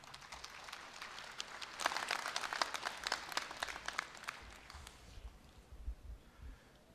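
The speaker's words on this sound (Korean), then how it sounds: "여러분, 부회장님을 큰 박수로 환영해 주십시오." Audience at a university graduation ceremony applauding a speaker's welcome, a dense crackle of many hands clapping that builds, holds steady, then thins out toward the end.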